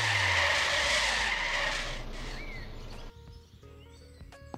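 A car in Trader Life Simulator 2 skids hard with a loud tire screech and engine roar that fade over a few seconds, followed by quieter game ambience with faint bird calls.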